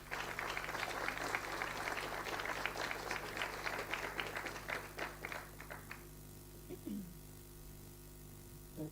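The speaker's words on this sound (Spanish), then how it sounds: "Recibamos con un fuerte aplauso a Ignacio." An audience at a panel discussion on human mobility and migration in Chile gives a burst of applause lasting about six seconds, dense clapping that thins out and fades under a steady electrical hum.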